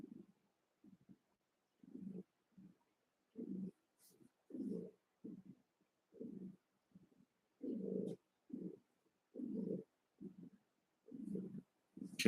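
Cat purring close and faint in quiet surroundings, a rhythmic series of soft low rumbling pulses with short silent gaps between each breath.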